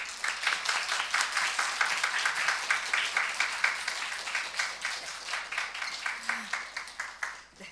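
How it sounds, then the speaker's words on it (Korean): Church congregation claps together to welcome a speaker, a steady, close wash of applause with rapid rhythmic hand claps that gradually thins toward the end. "다 함께 큰 박수로"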